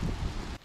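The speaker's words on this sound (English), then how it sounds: "have rain falling here at Ammonite Creek" Rain falling at a creek in the open, a steady broadband patter and hiss that drops off sharply near the end of the short stretch, with no voices.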